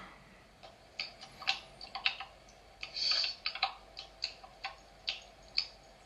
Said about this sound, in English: They're the clicks of a man smacking his chops.